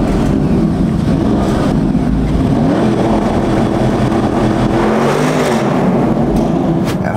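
A Porsche Panamera Turbo S E-Hybrid Sport Turismo V8 engine rumbles loudly and steadily with a dense low drone, rising in pitch toward the end as it revs.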